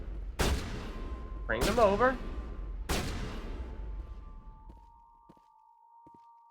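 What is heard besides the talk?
sniper rifle shot in video game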